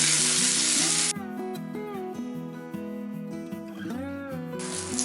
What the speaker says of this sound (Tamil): கடலைப்பருப்பு 1/2 ஸ்பூன். இது நல்லா கொஞ்சம் செவக்க வறுத்துக்கலாம்.